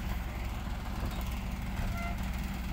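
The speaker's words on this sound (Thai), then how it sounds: "มาแล้วครับ รถเทรลเลอร์หัวลากนะครับขนรถแบ็คโฮ" A tractor-trailer truck rumbles in hauling a Kobelco SK200 backhoe, its steady low engine drone close and continuous, with a faint beep or toot near the end.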